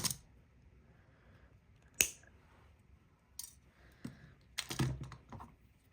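Scissors trim bead craft materials in a few sharp, separate snips and clicks, close and quiet against a near-silent room.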